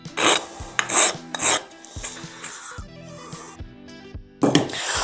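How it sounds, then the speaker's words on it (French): A hand-stitched rasp filing wood in a series of rough, scratchy strokes, loud and close, with pauses between passes and a final burst of rasping. "Ça, c'est de la râpe piquée main."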